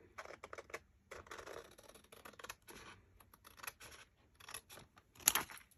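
Scissors snip through paper from a junk mail envelope, a series of faint, close crisp cuts and rustles in an irregular rhythm, with a sharper snip near the end.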